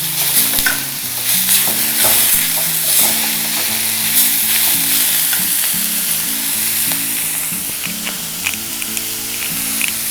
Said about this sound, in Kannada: ಹೀಗೆ ಫ್ರೈ ಮಾಡಿ ತೊಗೊಂಡ್ರೆ ಚೆನ್ನಾಗಿರುತ್ತೆ